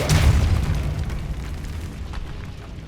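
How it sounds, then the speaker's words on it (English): A Depulso force spell blast in the video game Hogwarts Legacy hits as a loud booming burst with a sharp onset, then rumbles and slowly fades over a few seconds. "Depulso!"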